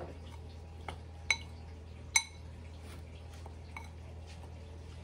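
White sugar is stirred in a mixing bowl for an eggless, butterless, milkless cake, with a few faint spoon clinks against the bowl over a quiet background hum, no talking.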